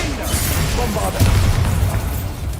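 Bombarda spell firing in Hogwarts Legacy, a deep rumbling boom that swells midway and holds for about a second over a steady, dense game backdrop.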